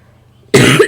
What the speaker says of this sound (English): I got a freaking cough